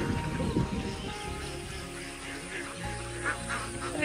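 Ducks quack repeatedly in a noisy outdoor setting in Cochin, with many birds surrounding and calling close by over a steady background hum.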